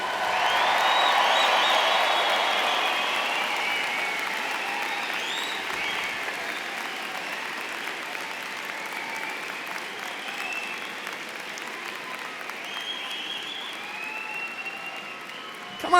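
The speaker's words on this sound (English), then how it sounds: "please feel free to clap loudly, to cheer, to shout" A graduation audience at a university winter commencement applauds and cheers, dense clapping filling the hall, loudest at the start and then holding steady as a broad, sustained wash, with faint shouts scattered through.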